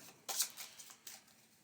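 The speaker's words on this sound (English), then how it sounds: "Let me give these a shuffle up." A deck of board game cards for a tabletop session is shuffled in a few quick riffling bursts, close and fairly quiet, with no one talking.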